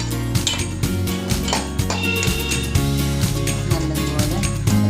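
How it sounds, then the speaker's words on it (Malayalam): Cooked pumpkin is mashed with a ladle in a pot for mathanga pachadi, with repeated metallic clinks and scrapes against the pot in an uneven rhythm, close and fairly loud. "ഇതിന് നമ്മൾ തവി ഇട്ടൊന്ന് ഇങ്ങനെ ഉടച്ച് കൊടുക്കണം"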